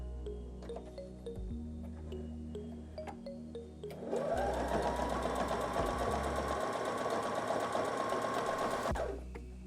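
A budget sewing machine stitching doubled-over fabric, starting with light clicks over a low hum, then a fast steady mechanical whir of needle strokes that runs for about five seconds before stopping abruptly, close and without talk.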